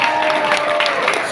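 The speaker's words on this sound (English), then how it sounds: "Everybody clap it up" An audience at a summit breaks into steady applause, dense clapping and murmur filling the hall at moderate volume.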